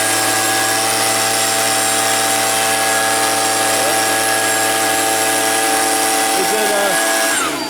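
A Stihl leaf blower that won't stay running, its small two-stroke engine droning loud and steady at high throttle, close to the mic, then easing off near the end.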